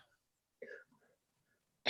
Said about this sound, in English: clearing his throat on that one